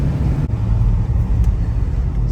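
A 1968 Dodge Charger R/T with a 440 engine out on a test drive, its steady low engine drone and road rumble continuous throughout from inside the car, with no voices.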